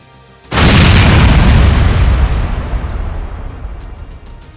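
A single massive volcanic blast bursts out suddenly after a brief quiet, then a loud roaring rumble slowly fades over several seconds.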